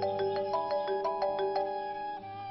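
A mobile phone ringtone plays a bright, repeating electronic melody of quick tones, moderately loud and alone, in a Hindi drama scene.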